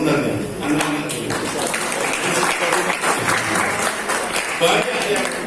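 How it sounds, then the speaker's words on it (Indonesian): Applause from an audience at a swearing-in and talk show event in Tuban, a dense continuous patter of clapping held for several seconds with crowd noise mixed in. "Ini harus tepuk tangan sebenarnya anak-anak ini."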